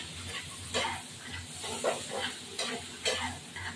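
Spices, including turmeric and a pinch of chili powder, fry in a pan for a light rohu fish curry, a soft sizzle broken by regular scraping stirring strokes about once a second.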